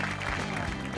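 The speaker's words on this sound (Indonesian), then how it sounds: "Mana sorakannya buat Harry Horak?" A stand-up comedy crowd erupts in loud, dense cheering and applause, a close, continuous roar of clapping and voices.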